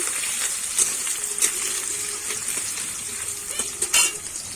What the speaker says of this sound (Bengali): দিয়ে আমি আলুটা কিন্তু লাল লাল করে ভেজে নেব